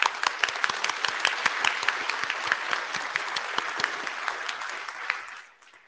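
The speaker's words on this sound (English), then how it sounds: "Little applause for you." Audience clapping at an IETF plenary session, a brisk, moderately dense round of hand claps from a seated crowd that holds steady and then quickly tapers off near the end.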